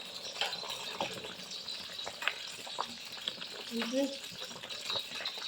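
Dried red chillies fry in hot oil for a pumpkin and lentil curry, giving a soft continuous sizzle with faint stirring clicks, close and quiet.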